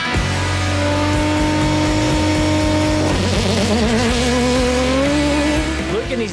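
A loud off-road race car engine revving hard close by, its pitch rising through the gears with a sharp shift partway through, then climbing again under rough, continuous roar.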